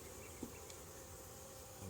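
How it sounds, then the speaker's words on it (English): Honey bees at a hive open for inspection give a steady, dense buzzing hum that fills the whole moment, close and even, with no voices. "The bees look nice and healthy."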